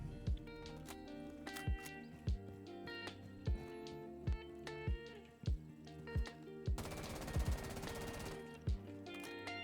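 Repeated gunfire from a rifle fired on iron sights in Rainbow Six Siege, sharp loud shots in a steady rhythm with a denser burst of rapid fire near the end, no talking.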